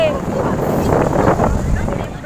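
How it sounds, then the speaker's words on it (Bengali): Strong sea wind buffets the microphone over rushing waves on a beach at Mandarmani, a constant loud roar with no clear speech. "আমরা সমুদ্রে চলে এসেছি, কি হাওয়া, কি ঢেউ"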